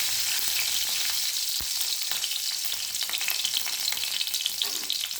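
Drumstick leaves sauté in hot oil with garlic, a bright continuous sizzle with occasional stirring scrapes and one sharp tap against the pan, close by and steady.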